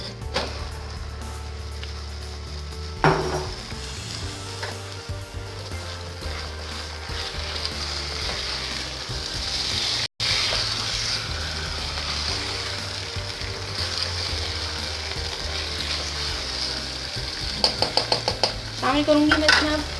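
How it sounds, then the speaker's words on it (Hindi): Minced meat (keema) sizzles and fries in a pan over light-browned onions while a utensil stirs and scrapes it, with steady close-up frying hiss and intermittent clinks of metal against the pan, a sharp knock near the middle, and no talk. "अब मैं शामिल करूंगी इसमें ये कीमा।"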